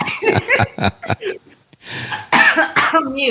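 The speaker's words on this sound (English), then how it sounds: "Stop coughing on my podcast, goddammit." A person coughs several times in quick bursts, then more harsh coughs follow after a brief pause, close and loud.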